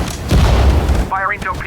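Ship gun batteries firing in the Sudden Strike 4 Pacific campaign naval battle at Leyte Gulf, a loud low boom rolling under radio-style voice chatter.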